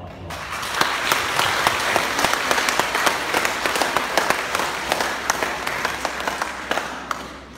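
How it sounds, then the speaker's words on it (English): A church congregation applauds a newly married couple after their wedding; loud, sustained clapping rolls on evenly throughout, close and full, with sharp individual claps standing out over the mass. "let us give them a round of applause"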